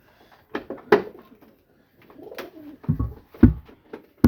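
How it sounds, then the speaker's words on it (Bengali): Pigeons coo nearby in soft, low throaty bursts, irregular and close, with a few quiet knocks and rustles between calls and no talking. "এই যে একটা কবুতর"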